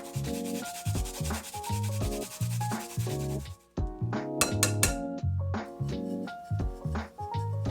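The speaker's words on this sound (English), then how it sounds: "grate in 1 clove of garlic, and a knob of ginger" Garlic clove and knob of ginger rubbed against a grater over seasoned meat, a rapid, rhythmic rasping scrape repeated stroke after stroke close up, with a light clink of the grater partway through.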